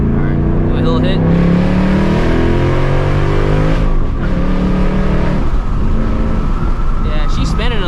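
A 2024 Mustang GT with stock tires spinning under hard acceleration, its engine revving loud and close with a rising, strained pitch through the pull, while voices talk over it.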